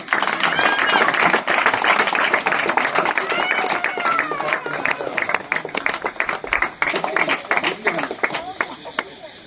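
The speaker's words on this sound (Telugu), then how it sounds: "అందరు చప్పట్లు కొడుతాం." Children clap together at a Sunday school new year celebration and prize giving in Nagulavaram: dense, continuous patter of many small hands, loud and close, tapering slightly toward the end, with voices and crowd chatter mixed in.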